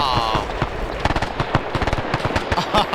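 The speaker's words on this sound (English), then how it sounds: "I'm hearing gunfire." Rapid bursts of gunfire and sharp cracks in a World War II shooter game set around Guadalcanal, loud, dense and continuous across the whole stretch with no talk over it.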